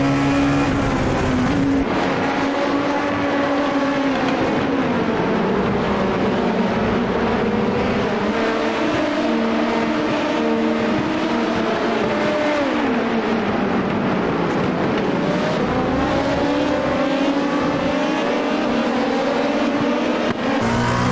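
Dallara P217 prototype race cars in iRacing at Suzuka make a loud, steady engine roar that holds at full volume, with revs climbing and falling through gear changes and several cars massed together at a race start.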